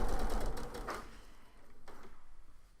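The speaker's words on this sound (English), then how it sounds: "I'm back to my machine and I'm ready to do the second set of sewing on these quarter square triangles" A sewing machine stitching quarter square triangles along a quarter-inch seam gives a fast, steady mechanical whirr that fades briefly and then picks up again, close by and without speech.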